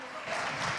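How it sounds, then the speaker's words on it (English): Audience applause at a conference summit stage, a short burst of dense clapping from the crowd that holds steady and grows slightly louder, with no voices over it. "Come on, big applause for Ralph."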